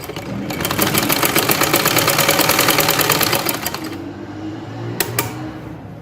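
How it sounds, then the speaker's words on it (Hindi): A sewing machine stitching loops for a kameez sleeve runs in a fast, steady rapid-fire clatter for about four seconds, then stops, leaving faint background hiss and a couple of brief clicks. "अब हमने इसको सिलाई लगानी"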